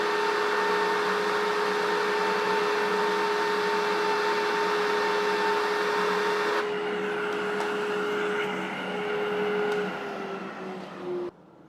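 A vacuum cleaner runs as a steady tonal whine that drops in loudness midway when its power is reduced, then cuts off near the end.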